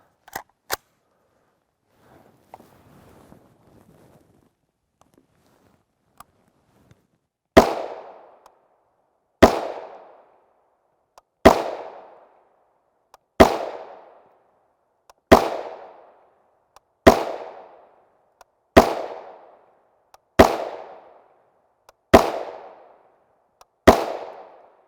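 Diamondback DBX pistol firing 40-grain 5.7x28mm Hornady VMAX rounds in a gel test: after a few faint clicks, ten sharp, loud shots ring out alone at a steady pace about two seconds apart.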